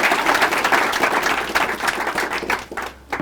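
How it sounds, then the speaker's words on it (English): A church congregation bursts into dense, steady applause for a guest preacher, loud and close throughout, thinning slightly near the end. "Would you give him a big round of applause?"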